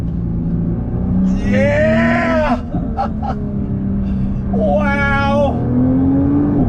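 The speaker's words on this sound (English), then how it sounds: "The sound of those turbos, the way it gets the power to the ground, the thrust." 2021 Nissan GT-R twin-turbo engine accelerating hard on track, loud rising engine notes climbing through the revs in two pulls separated by a brief gear change, with excited exclamations from people aboard.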